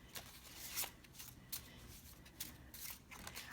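Handmade index cards are shuffled softly nearby, a faint papery riffle broken by a handful of crisp flicks and snaps spread through the moment, with no talking over them.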